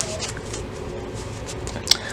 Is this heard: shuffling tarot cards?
yes